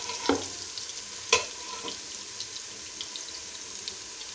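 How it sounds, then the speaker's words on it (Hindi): Ginger and garlic fry in a pan for a Lahori-style kofta chana curry, giving a soft steady sizzle broken by a few sharp clinks of a spoon against the pan, with no talking. "ज़रा सा अदरक लहसुन भून के फिर हम इसमें स्पाइसेस ऐड करेंगे।"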